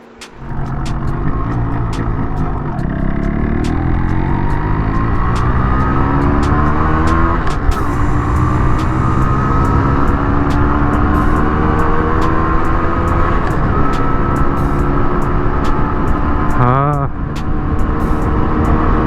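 A Yamaha RX-135 5-speed two-stroke motorcycle being ridden at cruising speed gives a loud, continuous engine drone with wind rush, steady throughout with slight pitch shifts and a brief voice near the end.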